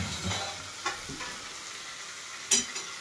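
Shoti (white turmeric) and fried potatoes stirred through a spice paste in a pan, with a soft sizzle and a few scraping knocks of the spoon, close by and fairly quiet, no talking.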